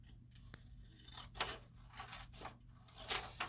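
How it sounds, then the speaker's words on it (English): Scissors snip through folded paper along a creased line in a series of short, quiet, close cuts, each a brief crisp rasp spaced roughly half a second apart. "And I'm going to cut on that line."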